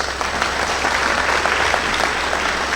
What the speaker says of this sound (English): How about a big cheer for those guys?